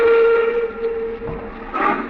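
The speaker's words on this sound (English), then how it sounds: "I stood there on the embankment as the train pulled away" A steam train whistles as it pulls away, a loud sustained steady tone with a breathy hiss that rises into a brighter burst near the end.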